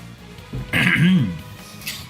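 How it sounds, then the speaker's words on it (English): A person clears their throat and coughs once, a rough, close burst in the middle, followed by a faint breath. "I'm gonna flip and cough out a lung"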